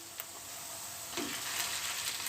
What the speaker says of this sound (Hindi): देखिए बीफ का कीमा मैंने ऐड कर दिया है। इसे अच्छे से मिक्स करेंगे और जब तक इसका कलर चेंज नहीं हो जाता तब तक हम इसे पकाएंगे